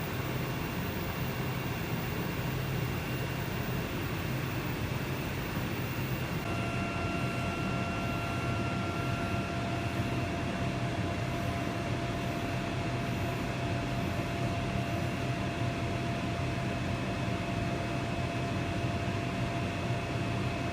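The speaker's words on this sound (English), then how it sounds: "the machine vision is picking up each part and then cutting each individual piece on the array of 24 parts" A Laserod laser cutting machine works through an array of 24 parts, producing a steady, loud mechanical drone with faint high whines and hums layered on top. No one speaks.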